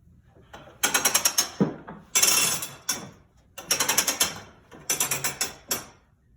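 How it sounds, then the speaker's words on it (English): A weaving loom runs as the shuttle passes and the beater battens down the thread. Four close, loud bursts of rapid ratcheting clatter are separated by brief pauses. "Pull twice to batten down your thread."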